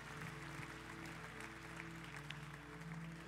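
A congregation claps in worship during a youth church service, faint, continuous clapping over a steady sustained musical drone from instruments.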